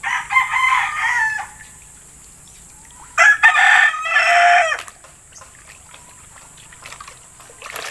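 Chickens being bathed crow and cluck loudly nearby in two bursts, separated by quieter stretches with faint dribbling water and soft background noise.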